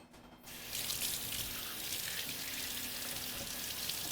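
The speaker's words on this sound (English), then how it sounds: "Just gotta wash my hands first." Running tap water splashing over hands at a kitchen sink, a steady close rush that starts abruptly after a brief quiet moment and continues evenly to the end.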